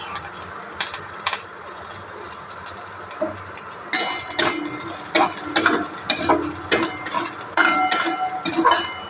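Coconut with green chilli is stirred in a pan for a papaya and coconut curry, giving irregular sharp spoon clicks and scrapes against the metal that get busier and louder over a low steady hum.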